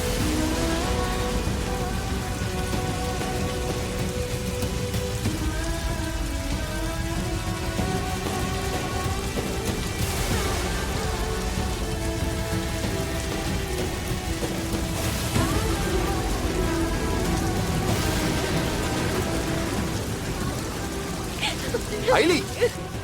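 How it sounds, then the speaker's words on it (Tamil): Heavy rain pouring down during a Tamil TV drama scene, a continuous dense hiss of falling water with occasional louder splashes, while background music plays and voices speak over it. "ஏன் இப்படி மழையில நனைஞ்சிட்டு இருக்க?"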